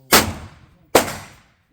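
Two loud, sharp gunshots from an Excalibur match gun at a shooting range, nearly a second apart, each with a short decaying tail and silence after.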